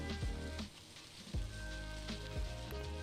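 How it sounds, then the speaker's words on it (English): Pork being stirred back into fried rice in a hot pan makes a soft sizzle, with three distinct scraping sweeps of a utensil against the pan and no talking. "We'll also add our pork back in and give it a good stir."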